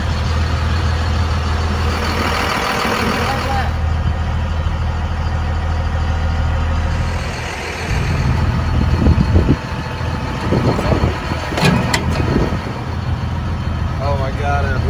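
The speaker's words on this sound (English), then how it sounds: "We're gonna see how a real truck pulls the trailer" A Ford half-ton pickup towing a 7,500-pound trailer on a mountain road, its engine droning steadily from inside the cab beneath people talking, with scattered clunks and rattles in the latter half.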